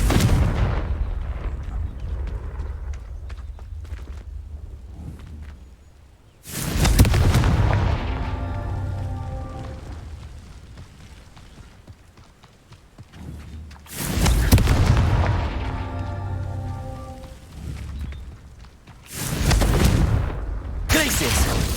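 Confringo fire spells burst in the Hogwarts Legacy video game: three loud, booming explosions, each a sudden blast followed by a long rumbling fade, over a steady background of game sound.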